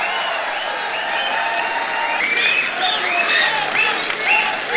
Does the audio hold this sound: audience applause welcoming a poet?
yes